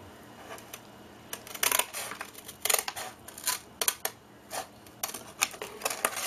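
Scissors cutting a cardboard tea box, a series of crisp snips and crunching cuts in irregular bursts, close and fairly quiet with no talk.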